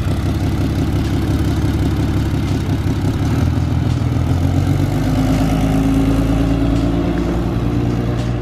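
A car engine runs loudly and close for the whole stretch, a rough, choppy idle whose pitch rises and falls as it is revved, with no talking.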